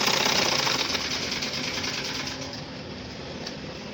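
A sewing machine stitches along a skirt waistband with a steady, close, continuous whirring hum that barely varies in rhythm, with no talking.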